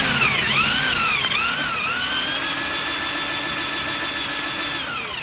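Power drill spinning a rust-cleaning attachment inside a coil spring packed with damp sand, a loud steady high whine whose pitch dips and wavers under load early on, then holds and tails off near the end; no talk.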